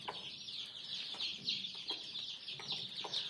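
A hen clucks softly while pecking at corn near newly hatched chicks, with a steady bed of high chick peeping and a few low, short clucks that are not very loud.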